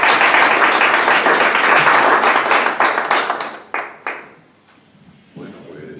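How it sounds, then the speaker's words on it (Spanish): Loud audience clapping surges for a few seconds, then breaks into a few scattered final claps and fades to near silence, with a voice briefly rising at the very end. "un aplauso para él"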